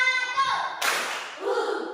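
A group of children in a classroom ice-breaker claps in unison once, a single sharp clap following a spoken cue, with voices around it.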